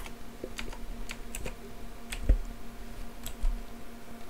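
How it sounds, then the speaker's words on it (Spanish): Scattered keystrokes and clicks on a computer keyboard during work on a Linux backup script, irregular taps with a couple of louder thumps, close over a low steady hum, with no speech. "¿Cómo se escribe un asterisco en este teclado?"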